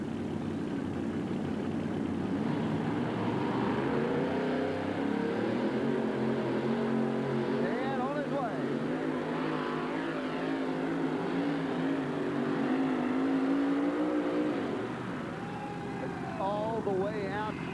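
Dragster with a big aluminum engine at a 1987 USHRA monster truck event in Oakland, a steady loud engine drone that rises toward the end before dropping off, heard in a large venue under an announcer's talk.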